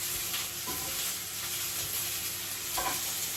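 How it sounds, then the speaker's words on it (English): Onion sizzles steadily in a little oil in a tray, a constant crackling hiss with a couple of soft stirring scrapes, close and continuous. "And now you can hear the sizzling going."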